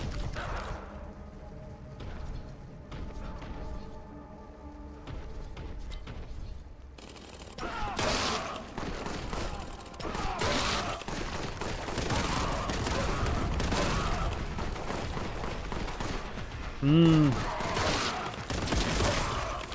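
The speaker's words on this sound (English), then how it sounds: "He's shooting through the walls." Rapid gunfire from a Warhammer 40K: Boltgun shooter, dense bursts of bolter shots and mechanical clatter layered over loud game ambience and music, building in intensity with a sharp burst near the end.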